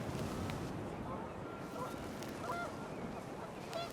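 Panicked geese honk in What Remains of Edith Finch, with several scattered nasal calls over gusting wind and distant water.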